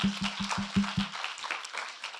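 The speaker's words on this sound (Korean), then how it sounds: "우리 하나님께 영광의 박수 드리겠습니다." A church congregation claps during an opening worship service: a few sharp rhythmic claps in steady time at first, then looser scattered clapping that thins out, moderately close.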